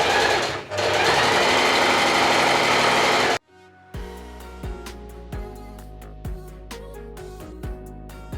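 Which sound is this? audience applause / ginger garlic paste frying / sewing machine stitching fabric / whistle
sewing machine stitching fabric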